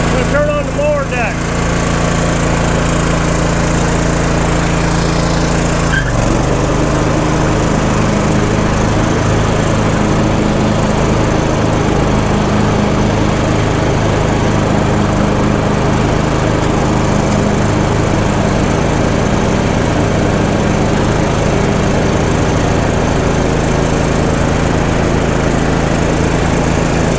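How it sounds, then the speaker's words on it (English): A lawn mower with its deck engaged runs loud and steady at close range, a continuous engine drone with a shift in pitch early on and a voice partly buried underneath. "I'm going to turn on the mower deck."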